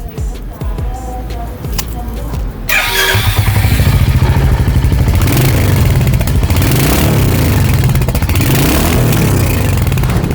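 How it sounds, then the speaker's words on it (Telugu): A 2025 Royal Enfield Hunter 350, a single-cylinder motorcycle with a five-speed manual gearbox, starts with a clattering crank and then settles into a loud, steady thumping exhaust idle close by. "ఈ వెహికల్ ఎగ్జాస్ట్ నోట్ అయితే ఇప్పుడు విందాం."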